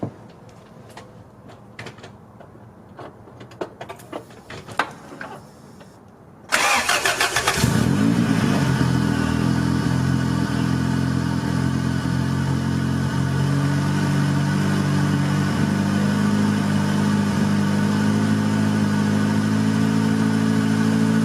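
Car engine fitted with a modified camshaft cranks and fires after a few seconds of quiet clicking and handling sounds, then settles into a loud, steady, lumpy idle close by that runs to the end.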